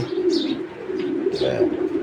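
A racing pigeon at a breeder's loft coos close by, low throaty rolling calls repeating twice over a soft continuous murmur.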